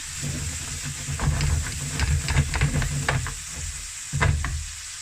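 Kimchi cooks in a pan with a steady bubbling sizzle and soft hiss, interrupted by clusters of scraping stir strokes, close and fairly loud with no talking.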